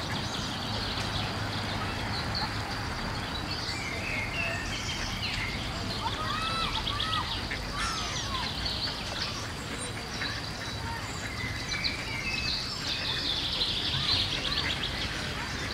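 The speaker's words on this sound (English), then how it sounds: "focus on the sound of the bird songs" Birds sing and chirp in overlapping calls against dense outdoor background noise with a faint water sound, heard continuously and at moderate distance.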